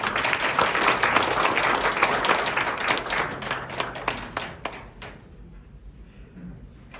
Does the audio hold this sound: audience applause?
yes